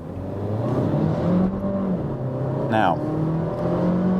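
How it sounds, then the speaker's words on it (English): A Skoda Kamiq with a 1.5 TSI engine, in normal driving mode, accelerates at full throttle from 20 km/h. The engine drone rises steadily in pitch, heard from inside the cabin under a single brief spoken word. "I just want to show you what the full acceleration the car can deliver when you put your foot down actually feels like"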